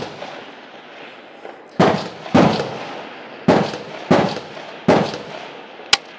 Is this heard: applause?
no